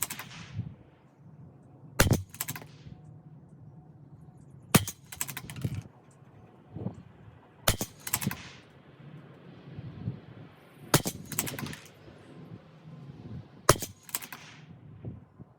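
A CZ 457 rifle fires Aguila match ammunition at a 50-yard range, five sharp loud cracks spaced a few seconds apart, each followed by brief handling clatter and low background noise.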